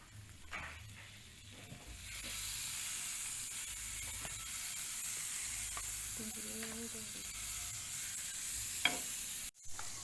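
Butter melts in a hot pan before garlic, shallots and onion are sautéed for a meat roulade filling, giving a steady soft sizzle and hiss with occasional stirring scrapes, fairly faint and close.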